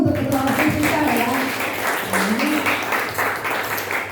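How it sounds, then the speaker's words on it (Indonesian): Audience in a school hall applauding the student council president, a loud sustained burst of clapping from many hands, with voices talking over it throughout. "Tepuk tangan dulu untuk ketua OSIS kita ya."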